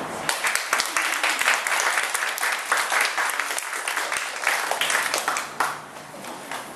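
An audience applauds poem readers at St. Mark's with a dense, steady burst of many hands clapping close by, holding strong for several seconds before thinning at the end.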